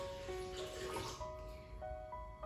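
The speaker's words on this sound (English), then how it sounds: "Add some water in the water tank." Water pours steadily into the water tank of a humidifier, a continuous splashing wash with a faint ringing tone running underneath, with no speech.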